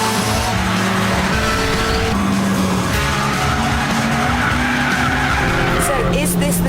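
A Japanese-market Honda Civic Type R on a race track, engine loud and close with tires squealing and skidding through corners, with a voice talking underneath.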